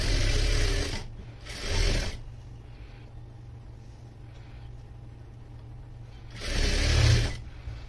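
A sewing machine stitches the seams of a long anarkali frock. It runs in short bursts with pauses between them and sounds close and moderately loud, with a steady low mechanical background.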